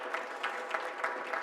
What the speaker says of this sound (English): Let's give our families of number 15 a round of applause.